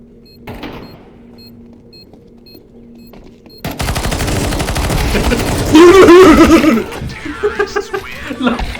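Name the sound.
gunfire in a video game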